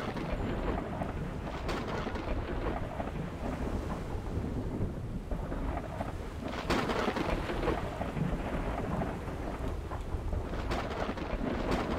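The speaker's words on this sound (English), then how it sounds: "Heavy storm." Heavy storm in the game Natural Disasters 2, with steady loud rain and wind throughout and rumbling thunder swelling several times, a continuous dense roar with no talking.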